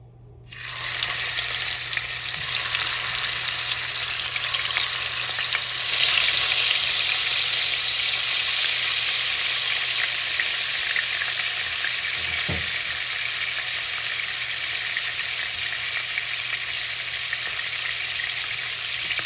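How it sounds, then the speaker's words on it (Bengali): Fish frying in oil in a pan, a steady close sizzle that holds at an even level almost throughout. "এখন তেল দিলাম মাছ ভাজির লাগিয়া।"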